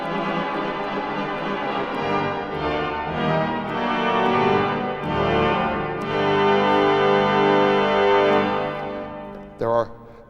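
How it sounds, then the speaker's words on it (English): Powerful pipe organ reeds, tuba mirabilis and tuba clarion stops on very high wind pressure, sustain loud, brassy chords for about ten seconds and then cut off, followed by a brief burst near the end. "they're called tuba mirabilis and a tuba clarion on very high wind pressure, and they sound something like this"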